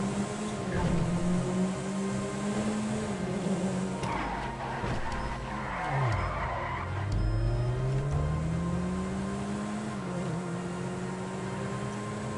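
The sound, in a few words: car engine revving in GTA video game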